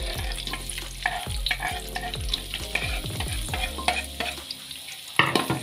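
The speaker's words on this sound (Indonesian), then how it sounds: "Yang pertama kita tumis dulu si bawangnya ini" Garlic and shallots sizzle in a hot pan while a utensil stirs and scrapes, producing repeated knocking strokes over a steady frying hiss, close and clear.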